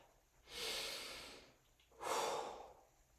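Two slow, audible breaths, a long inhale then a second breath after a pause, taken during a strength yoga flow with weights and a ball, fairly quiet and close with no talking.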